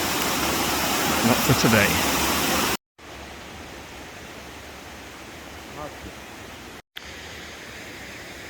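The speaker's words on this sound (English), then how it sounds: "I've just looked at the waterfall" A waterfall in Lumbutts Clough near Todmorden, swollen after recent storms, gives a loud, steady broadband roar that runs throughout, briefly cut twice, while a person speaks over it near the start.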